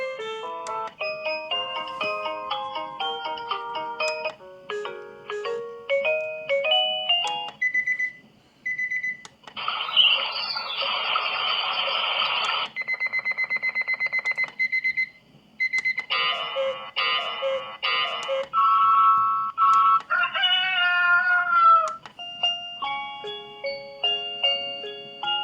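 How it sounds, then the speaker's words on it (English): A PERSUPER super loud alarm clock for heavy sleepers cycles through its built-in alarm tunes: bright electronic melodies, beeping patterns and a buzzing tone follow one another in short segments, loud and close, with no talking. "Those are the 15 tunes of the clock"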